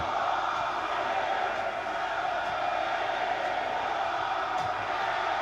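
Thunderous crowd noise filling a Philadelphia ECW hardcore wrestling arena during a brawl, a steady, dense roar of cheering and shouting that holds level and loud throughout with no single voice standing out.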